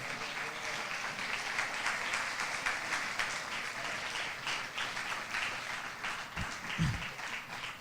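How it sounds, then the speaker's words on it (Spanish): Church congregation applauding during a service, sustained crowd clapping at moderate level, steady and continuous, with a couple of low thumps near the end. "Y dele un aplauso al Señor"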